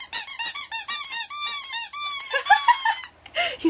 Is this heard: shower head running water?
no